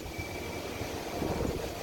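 Strong, gusty Santa Ana wind rushes and buffets steadily in a dense, continuous roar with slight surges, loud and close, in southern California during high fire danger.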